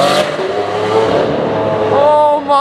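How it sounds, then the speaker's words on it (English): A Lamborghini Aventador supercar revs loudly and close by, its engine note climbing and falling in steady harmonic waves throughout. "there's my buddy Rob in the Manzuri Aventador"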